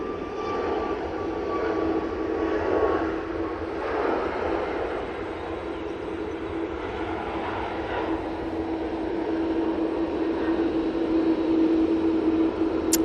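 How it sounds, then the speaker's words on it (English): A Ryanair Boeing 737 MAX 8 passing at Manchester Airport, a steady broad engine roar with a whining tone that holds fairly even throughout, heard at a moderate distance without talk. "Hopefully this Ryanair is going to come through the shot any second now."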